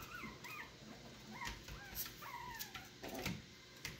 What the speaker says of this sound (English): these are some of Rosie's puppies